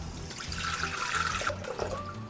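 A liter of water is poured into a Thermomix bowl, a steady splashing gush that runs for about a second and a half and then gives way to softer trickles and drips.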